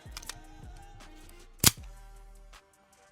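A suppressed PSA AR-V rifle fires one of its first rounds from a 20-round magazine: a single sharp, muffled report with a short ringing decay, preceded by a couple of faint mechanical clicks.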